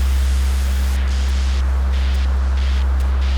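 Modular synthesizer noise shaped through a MiniMod ladder filter and MATHS, with a sine oscillator: a steady, loud hiss sitting over a low sustained hum, its brightness dipping and swelling in short stretches.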